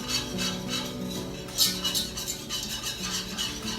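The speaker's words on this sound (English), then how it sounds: "My butter's melted, and now just sprinkle in the 1/4 cup of flour. And you just want to stir that." A spoon stirs flour into melted butter in a pot on the stovetop, giving soft, continuous scraping and light clinks against the metal. The sound is faint and close, with no talk.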